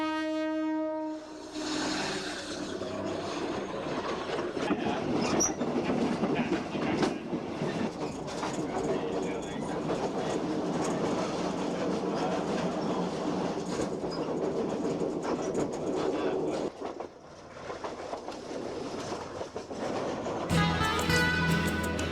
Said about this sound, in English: The train departs, taking us further south.